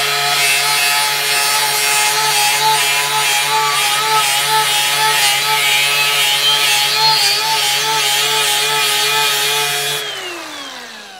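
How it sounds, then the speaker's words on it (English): Steady, loud, high-pitched grinding of a segmented flap disc on a power tool wearing down a steel duplex nail, a continuous harsh whine that cuts off abruptly near the end. "I'm going to take this duplex nail and grind it down to a nub"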